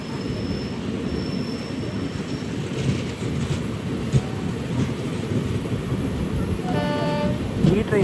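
The Mangaluru Express rolls past a station platform with a continuous heavy rumble of wagons and wheels, moderately distant, and thin metallic wheel squeals rising toward the end.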